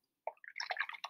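A paintbrush is rinsed and swirled in a cup of water, making a brief close run of small splashy swishes and drips after a moment of silence.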